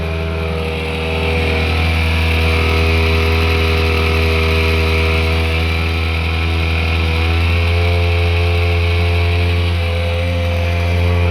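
A mini generator's small engine runs loud and close with a steady droning hum, its revs edging up slightly early on and then holding even throughout, with no voices over it.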